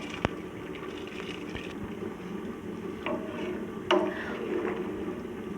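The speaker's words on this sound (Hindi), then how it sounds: "पानी बॉयल करने के लिए रखा हुआ है चावलों के लिए" Water heats in a pot for biryani rice, giving a steady soft bubbling hiss, with a few sharp kitchen clicks and knocks over it.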